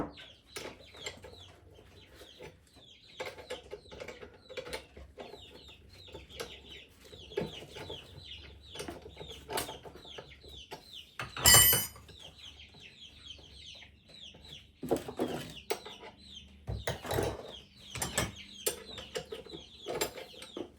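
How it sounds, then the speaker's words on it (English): Chickens clucking and calling around a workspace where a broken generator is being taken apart, with scattered cackles, brief wing flaps and one loud burst near the middle, plus clanks and handling noises throughout. "Chickens are loving it."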